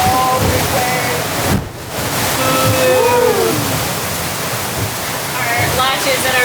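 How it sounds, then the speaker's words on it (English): A big ocean wave hits a sailboat at sea in rough conditions, four days from land: a loud, sustained rushing wash and slosh of water against the hull, with a brief lull midway, while a person speaks. "Oh, big wave."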